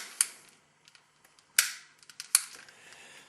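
A White Lightning alcohol camp stove is lit beneath a cup on its flipped-over pot stand: three sharp, separate clicks or snaps with faint rustles between them, close and fairly quiet, with no talking.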